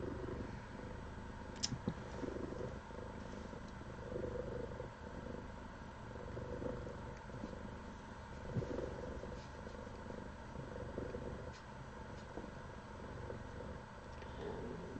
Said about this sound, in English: just keep laying here and purring